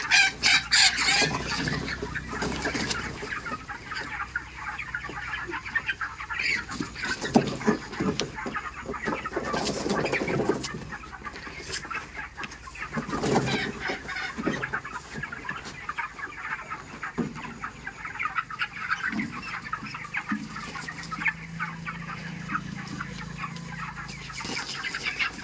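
A flock of ten 26-day-old poultry chickens cluck and squawk continuously nearby, with a rooster-like call rising from the flock at times.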